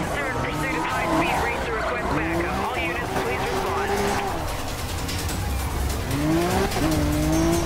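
A police pursuit car in the racing game Need for Speed Rivals roars loudly with a continuous engine drone, rising revs and repeated tire squeals during a chase, with voices faintly underneath.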